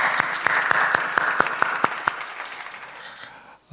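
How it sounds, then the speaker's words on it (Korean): A congregation claps at a church dawn prayer service, opening with sharp, evenly spaced rhythmic claps that settle into a softer, fading wash of applause before a brief dropout. "하나님께 영광의 박수 올려드리겠습니다"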